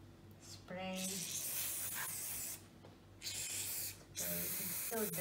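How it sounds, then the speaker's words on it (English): Store-bought stain remover is sprayed onto a dirty carpet in three long, close hissing bursts separated by short pauses, with faint background sound between them. "And then you have to spray on the area where there are stains or dirt."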